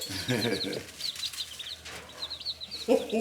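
Chickens cluck softly nearby in quick repeated calls, with a voice briefly talking and some rustling.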